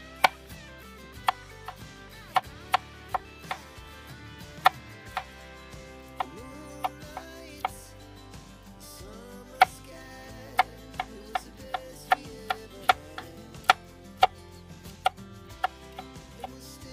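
A knife chops onions on a cutting board for a pot of arroz caldo, giving sharp, fairly regular taps in quick runs under steady background music.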